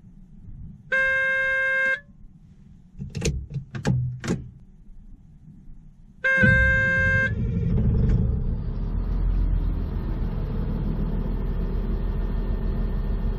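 A GPS-equipped bulldozer is started from the cab: two warning-beep tones, brief clunks, then the diesel engine cranks and settles into a loud, steady rumbling idle.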